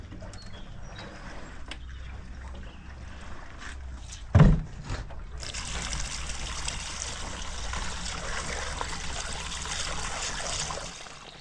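Dirty diesel draining from the fuel tank of an MF 35 tractor: a soft trickle, then one dull knock, then a steady, hissing outpour that runs on for several seconds, close and without talk.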